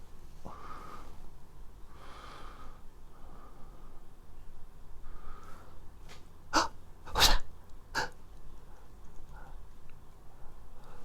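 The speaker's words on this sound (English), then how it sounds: "Oh, did you sneeze?" An animal gives several short snorting, sneeze-like bursts, a few sharp close ones clustered midway, amid soft breathing and sniffing noises.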